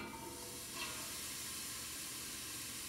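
Diced carrots, celery and onions sizzle in olive oil in a pot, a steady close hiss that holds evenly throughout with no talk over it.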